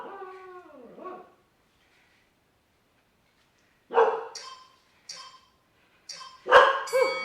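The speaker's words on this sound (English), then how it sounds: "Ignore the dog." Dog barking in bursts with a drawn-out howl at the start, in a home during an at-home kettlebell workout; several separate yaps and barks come close and fairly loud, with quiet gaps between.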